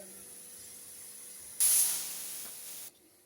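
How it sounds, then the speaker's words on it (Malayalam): A pressure cooker cooking rice hisses steam in a sudden loud burst that holds for over a second, then cuts off abruptly, with a quiet kitchen background before and after. "കുക്കർ വിസിലടിക്കാറായിട്ട് വരുന്നുണ്ട്"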